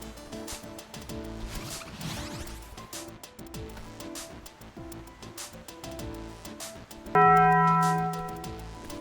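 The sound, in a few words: bells ringing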